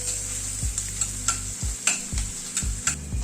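Onion frying lightly in a pan with a steady background sizzle, punctuated by regular spoon strokes stirring and scraping the pan, close and alone without speech.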